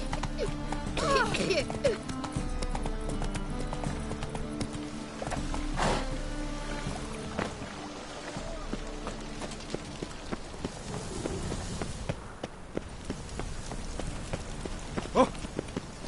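Roach, the horse in The Witcher 3: Wild Hunt, gallops with a steady clip-clop of hooves, close and continuous, under game music and ambient sound.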